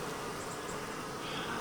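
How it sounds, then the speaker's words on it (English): Honey bees swarm and fight as robbers battle defenders at a resource hive during a dearth, a dense, continuous buzzing hum close by with no talk. "the teal side of this resource hive is now battling the bees who believe they rightfully belong here"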